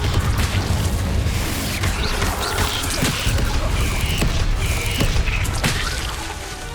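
Confringo blasting spell explosions in Hogwarts Legacy during a fight, a dense, loud stretch of booming impacts with crashes and mechanical clatter layered throughout.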